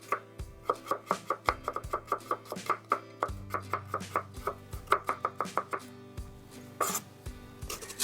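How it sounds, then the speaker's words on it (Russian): Knife chopping two large garlic cloves on a board, a rapid run of crisp, close taps in bursts with brief pauses, alone without talk. "Порежу 2 крупных зубчика чеснока."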